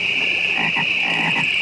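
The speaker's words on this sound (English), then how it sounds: "Those are Budweiser Frogs." Frogs croak in the Budweiser Frogs Super Bowl commercial, giving a few short, rhythmic croaks over a steady high insect-like trill. The calls are close and clear, with no talking.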